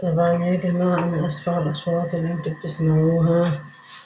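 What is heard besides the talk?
No distinct noise like a dog, phone or traffic.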